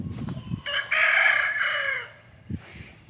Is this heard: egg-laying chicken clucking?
yes